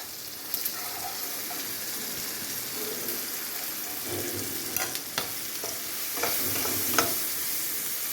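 Mashed potato with spices, dry with no water added, is stir-fried in a pan over low heat, giving a steady soft sizzle with intermittent scraping and tapping of a spatula, close and moderately loud.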